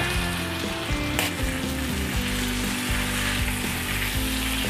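Fried pork belly stirred in a pan with tomatoes, a constant loud sizzle of hot fat broken by rhythmic metal spatula scrapes and knocks, close up with no voices.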